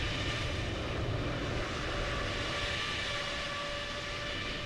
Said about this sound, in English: It sounds like we've got an aircraft.